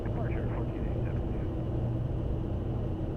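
A private jet lands at Teterboro Airport, heard from inside as a dense, steady rumble of engine and airflow noise that stays loud throughout, with cockpit voices underneath.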